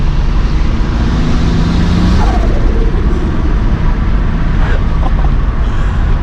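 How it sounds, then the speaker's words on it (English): A turbocharged VW MK3 VR6 wagon accelerates hard: a steady, loud engine drone with a rising whine partway through, heard close with no talking. "This car has one of the best turbo sounds of all time."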